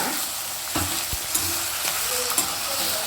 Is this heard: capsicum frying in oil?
yes